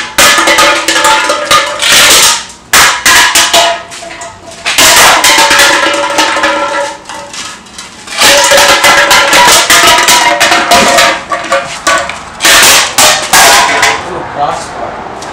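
Hockey pucks slamming into pop cans, loud clattering metallic bangs and crunches in bursts, close and harsh, with brief pauses between impacts.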